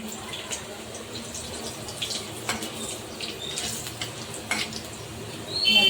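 Curry leaves and garlic crackle and sizzle in hot oil, frying until crisp, with a steady hiss broken by sharper pops that grow a little louder at the end.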